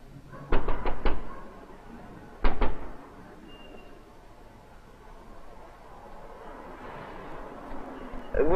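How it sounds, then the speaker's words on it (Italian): Knuckles rap on a door at a porter's lodge, two quick bursts of three sharp knocks about two seconds apart, close and clear over a steady hum of room noise. "io ho bussato qui alla portineria ma non mi risponde nessuno"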